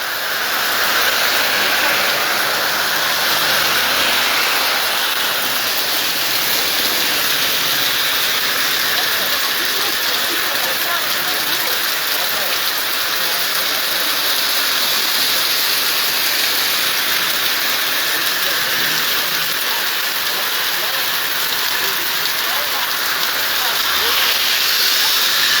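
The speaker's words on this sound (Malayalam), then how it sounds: "ഈ മഴ തുടരുകയാണ്." Heavy summer rain pours on the MC road between Kottarakkara and Valakam, a dense, loud, unbroken hiss that holds steady throughout.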